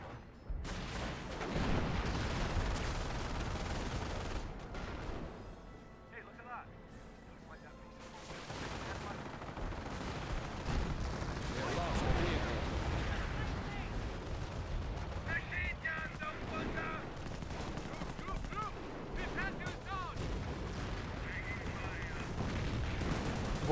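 Dense rifle, machine-gun and artillery fire roll through a World War II battle in the video game Company of Heroes, with bursts and booms layered continuously while a commentator talks over the action.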